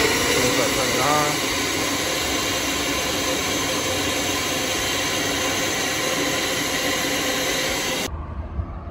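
A Hart 8-gallon 6HP shop vac runs with a loud, steady whine and roar that holds throughout, then cuts off abruptly near the end.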